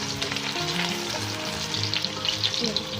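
Chicken pieces hit a pan of reddened fried onions with ground ginger and garlic for Sindhi biryani, giving a loud, continuous sizzle and crackle that runs steadily throughout, with no talking.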